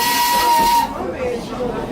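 A steam locomotive on the Baie de Somme railway runs with a steady loud hiss and rumble, a thin whistle tone held for under a second before the noise drops and continues more softly.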